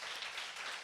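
A church congregation at a Friday prayer service claps together in a brief, dense burst of applause, a soft but continuous wash of many hands.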